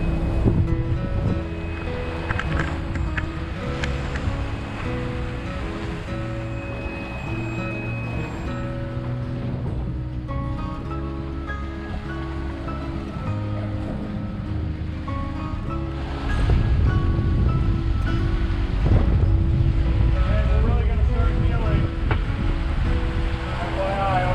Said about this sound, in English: The waves hadn't yet changed direction, and thus we were surfing the waves upwind.